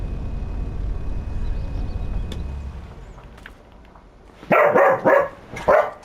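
A dog in Farming Simulator 25 gives three sharp, loud barks near the end, after a quieter stretch of low engine-like rumble with no talking.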